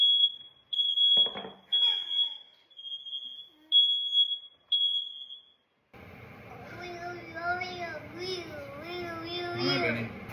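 Household smoke alarm going off, a series of shrill piercing beeps in a regular pulse, close and loud, with brief voices between beeps, then a child babbling and crying after the beeping stops.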